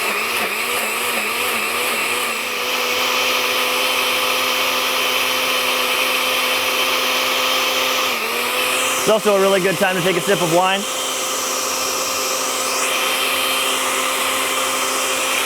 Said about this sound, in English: In she goes to the blender.